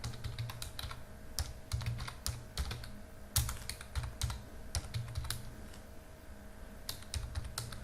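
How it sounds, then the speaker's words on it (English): Fingers tap steadily on a computer keyboard while entering commands, a close, continuous stream of light clicking keystrokes with occasional heavier key presses. "After typing this command, we have to press the enter key."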